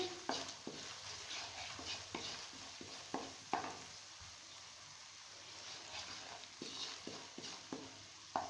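Salt, chili and turmeric are mixed into a pan for Lahori chikar cholay. Quiet, close stirring scrapes come in an irregular rhythm over a faint, steady sizzle, with no speech.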